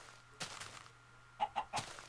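Chickens clucking in Minecraft, a few short separate clucks in quick succession, faint and alone against a quiet background with a low steady hum.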